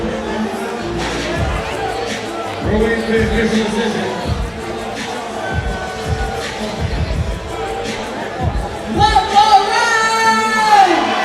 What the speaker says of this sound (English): I know the crowd are chanting it